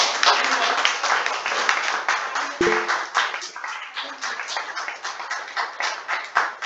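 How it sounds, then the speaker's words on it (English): An audience at a book launch applauds in a steady, dense patter of many hands that carries through to the end. It is fairly loud and close, with a brief ringing ping partway through. "I think it needs a big round of applause."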